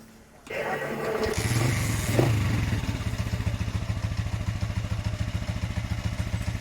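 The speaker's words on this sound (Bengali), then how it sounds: "কার্বোরেটর সেটিং হয়ে গেছে, আমরা স্টার্ট দিয়ে দেখব।" A Honda CG 125 motorcycle, freshly repaired carburetor, cranks and starts, then settles into a steady, rapid idle putter with light mechanical clatter, heard close and fairly loud with no talking.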